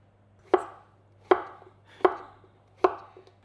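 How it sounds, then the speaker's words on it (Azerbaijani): A knife chops food on a board while preparing a festive lamb rib dish with cheese, four evenly spaced, crisp thuds heard up close against a quiet low hum. "bax, belə doğrayırıq"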